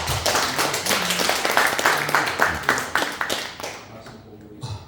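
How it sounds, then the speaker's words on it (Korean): A church congregation at a Korean revival service claps to welcome the pastor, a loud, dense burst of many hands that holds steady for several seconds and then fades away. "우리 목사님 나오실 때 박수로 환영하도록 하겠습니다"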